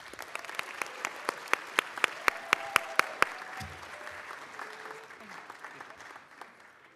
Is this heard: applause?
yes